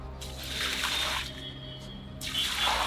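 A liquid Fevicol and lime white coating mix pours and spreads across a roof in two steady whooshing surges with a quieter gap between, close and fairly loud with no talk.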